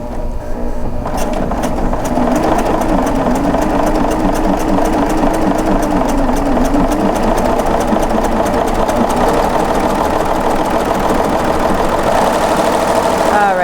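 A serger runs steadily, sewing a flatlock stitch while its blade trims and encloses the raw fabric edge, a fast, continuous mechanical whirring and rapid clatter that holds loud and unbroken for over ten seconds.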